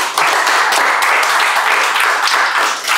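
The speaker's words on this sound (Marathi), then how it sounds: "टाळ्या वाजव त्यांच्यासाठी जोरदार टाळ्या" Loud, dense applause from the crowd at a Marathi stand-up comedy show, a sustained wash of many hands clapping close and steady for about three seconds before tapering slightly.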